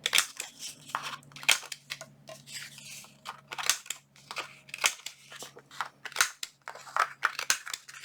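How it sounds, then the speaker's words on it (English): A corner rounder punch trims the corners of paper junk journal tags, giving sharp crunching snaps at irregular intervals, each followed by light paper rustling, close up with no talking. "let's go ahead and take our rounder, our corner rounder, and let's round the corners here quickly"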